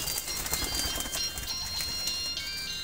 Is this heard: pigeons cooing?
yes